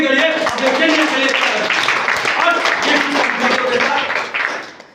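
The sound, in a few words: audience applause at a public speech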